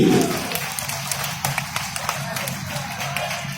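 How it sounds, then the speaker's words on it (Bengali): Audience at an outdoor Pohela Boishakh stage show in Mymensingh applauding after an army magician's act, a brief burst of scattered claps and taps that thins out over a few seconds. "চমৎকার চমৎকার, জোরে করতালি।"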